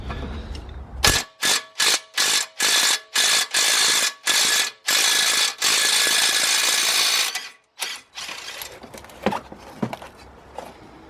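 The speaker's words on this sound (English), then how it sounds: "now I'm going to go ahead and remove the caliper bracket itself. It's just held in by two bolts and they are 18mm." Two 18mm brake caliper bracket bolts are loosened with a power tool, giving a series of loud close rattling bursts with short pauses, then a longer run and a few lighter metallic clicks.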